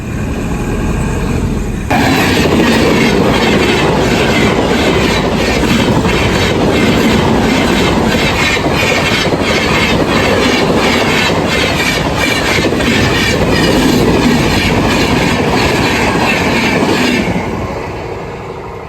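A train rumbles past loudly and close at a railway level crossing with the gate down, wheels clattering in a steady rhythmic clickety-clack for most of the clip before fading slightly at the end.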